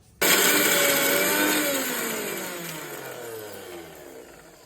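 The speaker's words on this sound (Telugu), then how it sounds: "పల్లీని వేయించుకొని లైట్గా మిక్సీ పట్టుకొని మిక్స్ చేసుకోవాలి" A mixer grinder whirs at full speed grinding roasted peanuts, starting abruptly and then winding down in pitch as it slows, loud and close with no voices.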